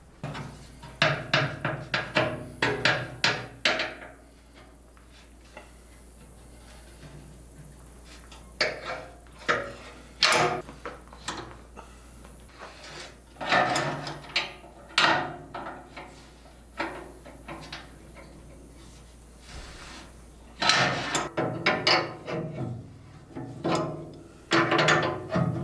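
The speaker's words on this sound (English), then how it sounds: "go ahead and get the nuts tightened up down here. And then tighten up all 3 bolts right along here" Metallic clanks and ratcheting clicks come from tightening nuts and bolts on cheap clamp-on pallet forks fitted to a tractor bucket, in irregular bursts with quiet pauses between them.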